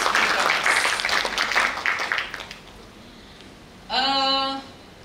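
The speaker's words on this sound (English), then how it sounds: "Let us give applause" A symposium audience at a malaria control session claps for the speakers, a brief crackling round that dies away after a couple of seconds. A short, steady tonal sound follows near the end.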